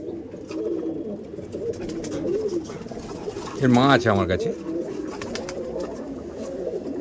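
Pigeons coo at a pigeon loft, with one louder coo rising near the middle over a steady murmur of birds while someone talks throughout.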